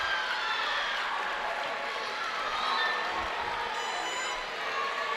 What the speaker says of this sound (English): now the crowd's getting to their feet and cheering